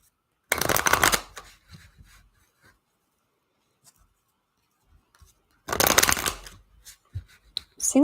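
Tarot cards being shuffled, two loud riffling bursts close by, one near the start and one past the middle, with soft handling rustles and taps between them and no talk.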